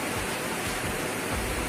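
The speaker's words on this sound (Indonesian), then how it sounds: "Di tingkat 2 di air terjun tingkat 7" Putri Naga falls in South Aceh sends a dense, steady roar of cascading water, loud and close, an unbroken rushing wash with no voices over it.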